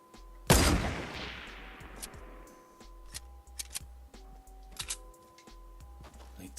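One loud, sharp gunshot in Fortnite Battle Royale that rings out and decays, followed by scattered fainter clicks and snaps over a low droning game soundtrack.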